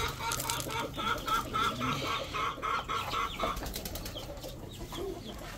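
Young chicks cluck in rapid repeated calls and flap their wings near the microphone while pecking at chopped onion feed, the chatter easing off toward the end.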